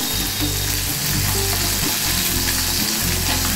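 Puti fish frying in very hot oil give a loud, dense, continuous sizzle and crackle, with low rhythmic bubbling underneath, and no voices.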